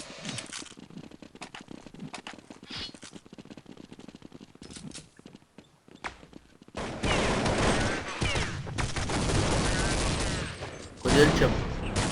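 Counter-Strike gunfire from a weapon being tested, with bursts of rapid shots loud and close for the last several seconds after quieter game noise and scattered clicks earlier.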